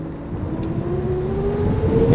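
A HUCK Cycles electric motorbike pulls away on the throttle, its motor whine rising steadily in pitch over a loud, continuous rumble of motion.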